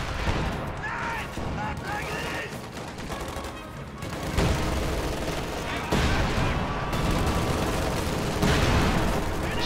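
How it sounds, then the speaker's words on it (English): A Panzerwerfer rocket barrage in a World War II strategy game, dense overlapping booms and crackling explosions rolling continuously and loudly, with a commentator talking over the battle. "I can't believe how terrible those Panzerwerfer barrages have been"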